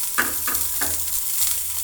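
A spoonful of ginger, garlic and cloves sizzles in hot oil in a pan as a spoon scrapes through it in about three distinct stirring strokes over the steady crackle.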